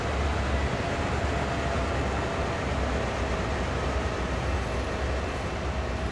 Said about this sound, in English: a trash train just goes by, one of those garbage trains